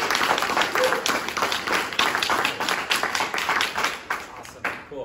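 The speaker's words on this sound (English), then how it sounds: "Give him a round of applause." An audience at a blockchain meetup in Austin breaks into applause to welcome a speaker, loud, close clapping with distinct individual claps pulsing through the crowd sound before tapering off at the end.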